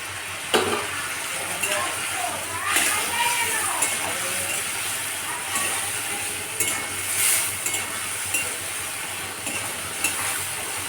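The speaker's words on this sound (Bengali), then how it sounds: "এবার এটাকে ভালো করে কষিয়ে নিতে হবে। এরপর এতে মাছগুলো দিয়ে দিলাম।" Small chuno fish fry in oil with ground mustard paste and spices, close-up stirring scrapes and clicks over a steady sizzle, with no one speaking.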